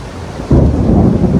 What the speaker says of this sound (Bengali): এই যে ঠাডা পড়তেছে